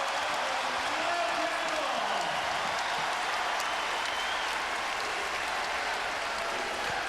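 Basketball arena crowd at a college game between Texas A&M and Arizona cheers and applauds in a sustained, even wash of sound, with a commentator's voice running over it.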